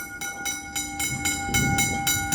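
Trains pass each other at a station in Dandenong, Australia, with rhythmic wheel clacks beating roughly every quarter second over a steady tonal hum and a swelling low rumble as the cars roll by, no talking.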